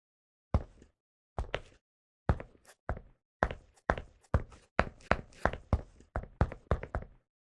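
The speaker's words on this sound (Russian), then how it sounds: "Все, метасаунд шагов готов." Unreal Engine MetaSound footstep effects play as a run of dull thudding steps, a few spaced apart and then a faster, steady walking rhythm, clean and close with silence between.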